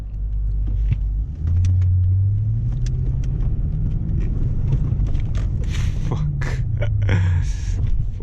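Toyota Land Cruiser V8 engine pulling in fourth gear under manual shifting, a steady loud low rumble with a rising and falling drone, road noise and scattered clicks throughout, no talk.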